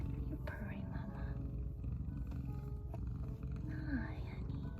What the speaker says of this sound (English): You're purring, Mama.